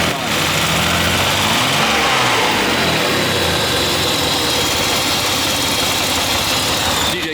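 A Nissan RB25DET engine swapped into an R33 Skyline runs loud and close, a dense, rough roar that holds steady throughout with no clear revs or pauses.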